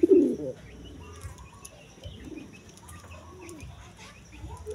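Racing pigeons coo softly in low, rolling calls, repeated several times at close range over a quiet background, with one louder coo at the start.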